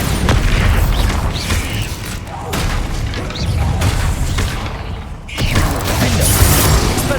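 A Bombarda blast spell in the Hogwarts Legacy game bursts loud and close amid dense, continuous mechanical battle noise, with a brief lull before the din surges back.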